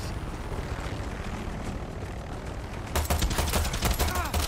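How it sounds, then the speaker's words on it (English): Helicopter rotor drone and rapid pistol gunfire in the video game Dead by Daylight, a steady engine wash that gives way to a dense burst of repeated sharp shots near the end. "The pistol is gonna take out the chopper."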